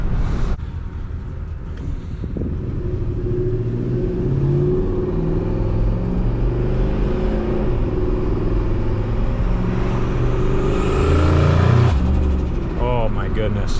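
A built-block, single-turbo Ford F150 sleeper pickup drives with a deep, close engine rumble that builds as it accelerates and swells to a louder rev near the end, with a voice talking over it.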